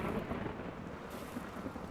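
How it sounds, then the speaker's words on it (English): A thunder crack rolls through a rainy thunderstorm in the video game RimWorld, a loud broad rumble layered over steady rain, filling the short moment without voices. "Oh, it's a rainy thunderstorm"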